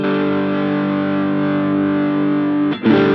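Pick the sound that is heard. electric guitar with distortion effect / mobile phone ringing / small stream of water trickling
electric guitar with distortion effect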